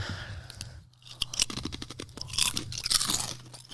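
Someone bites into and chews thin, crackery veggie chips close up, a quick run of sharp crunches that stop briefly, then resume in denser bursts of crisp chewing.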